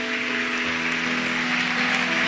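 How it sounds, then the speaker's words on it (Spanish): A congregation at a church service applauds loudly and steadily for a few seconds, a continuous wash of clapping over a sustained musical tone. "Fuerte ese aplauso."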